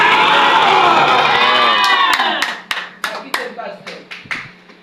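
A church congregation shouts hallelujah together in a loud, dense crowd roar. The cheering then breaks off, and a series of sharp, rhythmic bursts of group clapping follows.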